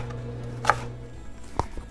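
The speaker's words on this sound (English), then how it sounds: "I'm going to chop up these green onions" A knife chops green onions on a cutting board, giving two crisp, distinct chops about a second apart and a fainter tap just after. A low background hum sits underneath.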